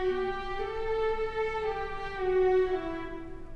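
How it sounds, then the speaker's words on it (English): A viola section of a symphony orchestra plays Beethoven's Ode to Joy at a young people's concert, a sustained, bowed melody in a warm lower register that moves steadily from note to note without pause. "So listen to the violas."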